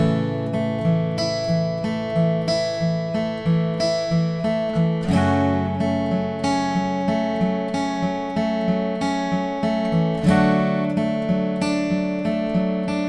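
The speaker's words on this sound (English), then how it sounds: "So altogether, this verse will sound like this." Acoustic guitar fingerpicking the verse of a song, a steady, even pattern of plucked chord notes with clear sustained bass notes and chord changes every few seconds, close and unaccompanied.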